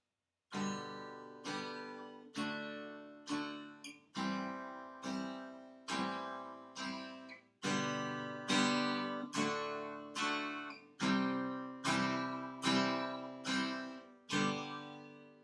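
Strummed guitar chords ring out alone, about fifteen steady strokes in an even rhythm, each sounding clearly and then decaying before the next, close and moderately loud.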